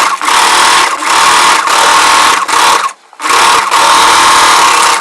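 A sewing machine stitches three joined layers of a chudidar frill, running in loud, close, fast whirring bursts with short pauses between runs and one longer stop in the middle.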